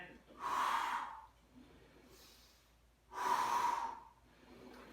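Two loud, close breaths during a golf-focused Total Gym exercise, a strong inhale and a later one, with a quieter stretch of breathing between them.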